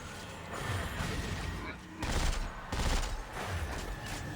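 Gunfire in the video game Dead Space 3, bursts of rapid shots in two or three loud clusters over a busy game soundscape, with a voice talking underneath.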